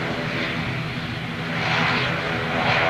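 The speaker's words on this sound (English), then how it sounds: "She's a gorgeous aircraft. Gotta love the 380." An Airbus A380 at London Gatwick roars in a steady, loud, broadband engine drone that swells slightly toward the end, heard from a distance outdoors without speech.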